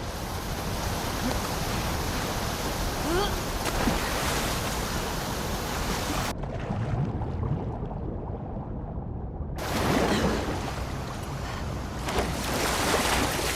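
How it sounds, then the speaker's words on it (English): Fast-flowing torrent of water in The Last of Us Part 2, a loud continuous rushing roar with a brief dip in the middle, steady and without speech. "the player was faced with a fast-flowing torrent of water they couldn't cross"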